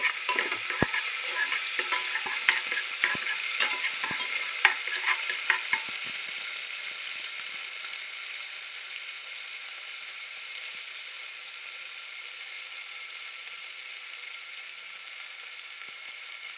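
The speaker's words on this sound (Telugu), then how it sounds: "ఉల్లిపాయ పచ్చిమిర్చి వేస్తున్నాం ఫ్రై చేద్దాం" Sliced onion and green chilies frying in oil in a pan for a potato, cabbage and pea curry, giving a steady close sizzle with scattered stirring scrapes early on, fading slightly toward the end, no talk.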